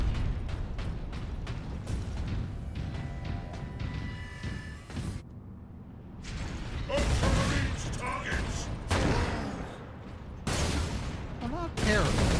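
Grenades going off in Warhammer 40,000: Space Marine, with several loud, sharp blasts landing in bursts over clanking battle noise and game sound, while a voice talks over parts of it.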